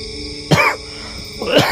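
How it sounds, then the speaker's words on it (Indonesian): Two short coughs from a person nearby, separated by about a second of quiet, each a sharp burst that fades quickly, recorded at a rural graveyard beside a rice field. "Sorry, aku batuk cuy."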